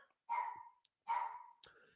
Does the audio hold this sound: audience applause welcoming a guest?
no